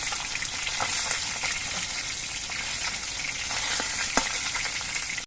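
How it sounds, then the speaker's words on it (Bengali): Tilapia fish pieces fry in hot oil in a pan, giving a loud, continuous close-up sizzle with faint crackles and a sharp pop near the end, no voices. "মাঝারিভাবে মাছগুলোকে ভেজে নিচ্ছি"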